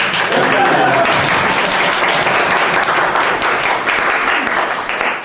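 Wedding guests applauding, dense sustained clapping from a large crowd in a reception room, loud and continuous throughout and tapering off slightly at the end.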